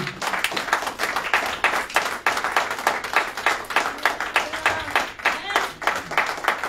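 A church congregation claps in steady, rhythmic unison while voices shout and cheer in praise, the applause loud and continuous throughout.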